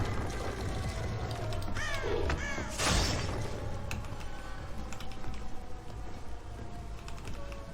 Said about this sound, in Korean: 까마귀 소리